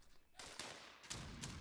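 A short burst of gunfire from the video game Fallout 76, three quick shots in rapid succession, quiet and distant-sounding within the game audio.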